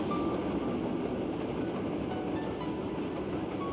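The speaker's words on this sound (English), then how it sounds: "Beyond the glass, the train slows." Steady, dense rumble of a slowing train, continuous and fairly loud, with faint high squeals riding over the low roar.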